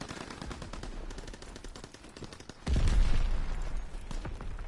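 Type 100 submachine gun firing in Call of Duty WWII, rapid automatic bursts with a steady fast rhythm, growing louder and denser midway through amid game ambience.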